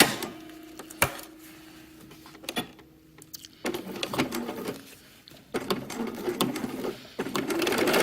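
A sewing machine stitches a shirt collar in short, quiet runs of rapid mechanical whirring, separated by pauses and small clicks of handling the fabric.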